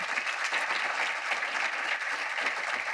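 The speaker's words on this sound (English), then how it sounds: "Can we give Shane and Ingrid and Stephen and Christian one more round of applause?" At a Veterans Day celebration, an audience keeps up dense, steady applause for about three seconds, fairly loud and filling the room, with no talking over it.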